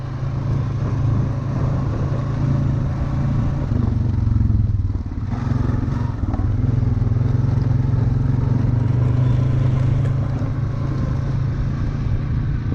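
A Kubota tractor engine runs steadily outdoors near a beaver den, a loud low rumble with light clatter, briefly dipping midway, with no talk.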